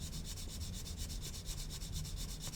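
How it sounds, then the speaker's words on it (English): A sanding buffer rubs the fuselage of a 1/32 scale Zoukei Mura Bf109G-14 plastic model aircraft, making steady, rhythmic scratchy strokes close by with no voices. "buffing the surface just to make sure that it's perfectly flat and all traces of that panel have gone"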